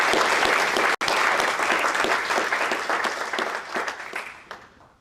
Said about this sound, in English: if I could get a round of applause for this year's Cassiticus Award winner